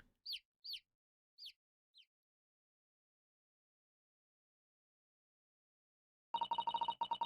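Video-game chick sound effects in The Great Ace Attorney: four short, high chirps spaced apart, then silence, followed by a loud burst of rapid ringing game tones at the end.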